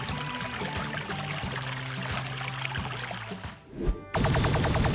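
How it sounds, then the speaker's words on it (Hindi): A waterfall rushes as a steady, broad, moderately loud wash of falling water, briefly dipping before surging back in a louder splashing roar. "यहाँ एक वाटरफॉल है।"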